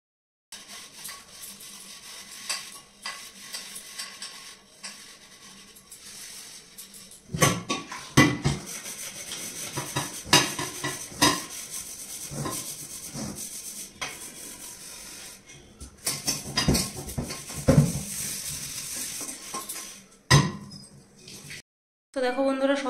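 Hand-scrubbing and washing dishes, with steel plates, pots and utensils rubbed and clinking in a home kitchen, steady close scraping with scattered louder knocks, and a voice heard faintly in places.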